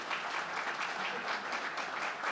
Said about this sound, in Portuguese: Arthur, por gentileza, peço uma salva de palmas para o Arthur.